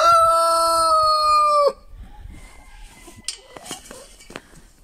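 Chickens in a snowy yard: a loud, drawn-out cackle or crow first, then quieter scattered clucks, scratching and small movements close by.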